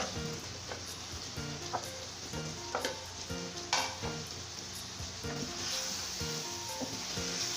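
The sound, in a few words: fried cauliflower added to potatoes, sizzling and stirred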